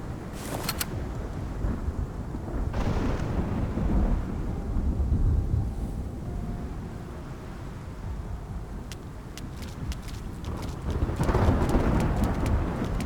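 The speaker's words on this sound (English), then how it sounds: "It's just the rain." Steady rain with low rumbling thunder in a nighttime storm scene from the Love and Deepspace video game, swelling at the start, middle and end, with no voices.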